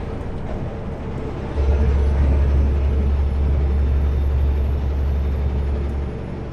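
Road noise inside a vehicle driving along Highway 17: a loud steady low rumble that swells and holds after a moment, with faint high whine above, no speech.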